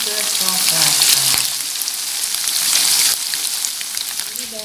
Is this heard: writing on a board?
no